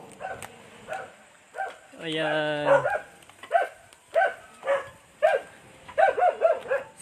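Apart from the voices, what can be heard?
dog barking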